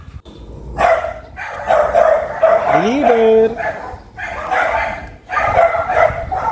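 Several dogs bark and yelp in bursts close by, mixed with someone talking over them; one whining yelp rises in pitch midway.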